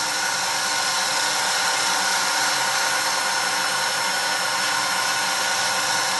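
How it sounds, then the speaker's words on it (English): Wood turning on a lathe is sanded with 400 grit sandpaper, giving a steady, loud, unbroken hiss and whir of motor and abrasive that runs throughout without pause. "take 400 grit sandpaper, knock the dust off of it, and I am going to start sanding"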